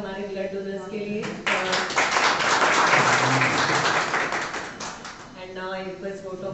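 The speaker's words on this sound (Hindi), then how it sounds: "एक जोरदार ताली हमारे ब्लड डोनर्स के लिए।" An audience at a blood donation event breaks into a burst of loud, dense clapping lasting a few seconds, with a voice talking just before it starts and again as it dies away.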